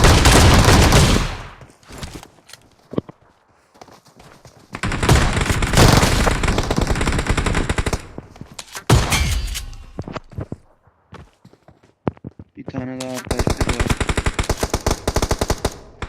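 Bursts of rapid automatic gunfire in a video game rattle loudly in several volleys, separated by short quieter gaps with scattered single shots.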